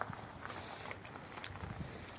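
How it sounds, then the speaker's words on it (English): An old, gentle broke gelding is ridden at a walk, its hooves clip-clopping in a soft, steady rhythm at low volume, with faint background noise and no talking. "Riding a horse."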